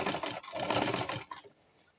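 Sewing machine stitching a round flounce sleeve, a quick burst of rapid mechanical whirring and needle clatter lasting over a second, close and loud, then stopping abruptly into quiet.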